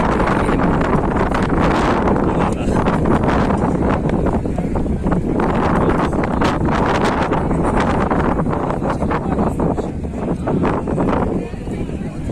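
Strong southerly Lodos wind in Istanbul blows hard across the microphone the whole time, a loud, constant roaring buffet with gusty fluctuations.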